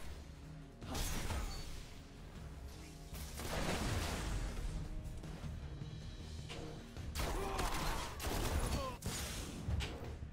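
Gunfire from a Destiny multiplayer match: dense, repeated bursts of shots with impacts and whooshes fill the whole stretch, loud and busy, with short gaps between volleys.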